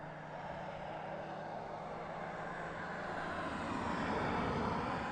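A DHL Boeing 777 cargo jet at East Midlands Airport, its engines giving a steady broadband roar that swells gradually louder across the stretch with no talk.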